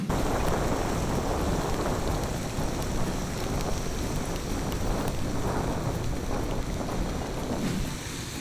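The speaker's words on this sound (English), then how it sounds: "It was raining heavily" Heavy rain pours down in Vietnam in a steady, dense roar, constant and loud throughout with no voices.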